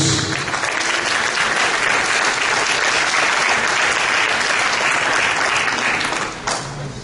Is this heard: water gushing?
no